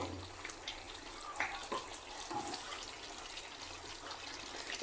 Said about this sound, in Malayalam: നമ്മുടെ ബീഫ് കണ്ടോ, അത് തിളച്ചിങ്ങനെ പറ്റിക്കൊണ്ടിരിക്കുകയാണ്, വെന്തുകൊണ്ടിരിക്കുകയാണ്.